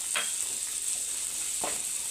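Cabbage, carrot, capsicum and onion fry in hot oil for a masala veg pasta, giving a steady close sizzle with two brief stirring scrapes over it.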